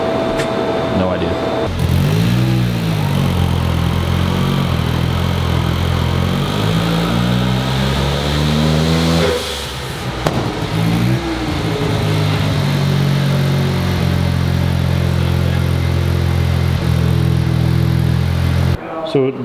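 A Datsun 240Z with a swapped-in turbo diesel engine runs loud and close, its steady drone rising and falling in pitch as it revs, with people talking over it.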